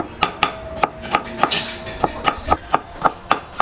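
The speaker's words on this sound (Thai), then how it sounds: "กระเทียมดองนี่จะเป็นกระเทียมโทนนะครับ ใช้ซอยเอา จะได้เนื้อกระเทียมด้วยนะครับ" A knife slices pickled single-clove garlic on a cutting board in about a dozen crisp, evenly spaced chops, close and clear, with no talking.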